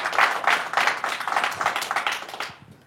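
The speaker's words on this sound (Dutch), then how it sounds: "Geef ze een warm applaus." An audience at a local business awards event gives warm applause, a loud, close patter of clapping with a pulsing rhythm that fades out near the end.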